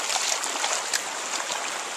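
A husky named Chinook splashes through a shallow stream on a hike, with steady broadband sloshing and trickling water close by, a few sharper splashes standing out, and no talking.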